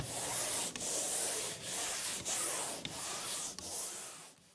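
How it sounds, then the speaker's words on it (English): Steady scraping of a drywall sander with 100-grit paper pushed across a wall in long strokes, with brief pauses between passes, close and loud. "sand the entire wall, not just the patches, with 100 grit paper mounted in a drywall sander"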